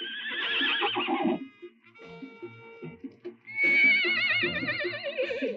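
Agitated horses whinny loudly and repeatedly in a Western outdoor setting, shrill wavering neighs at the start and again near the end, with low snorts and shuffling between them.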